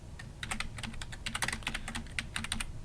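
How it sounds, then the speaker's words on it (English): Typing on a computer keyboard while entering a chart axis title in Excel, a quick irregular run of crisp key clicks, close and clear, with no voices over them. "we can just simply start typing"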